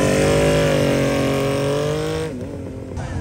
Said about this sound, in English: there's a lot of white plate cars coming in and out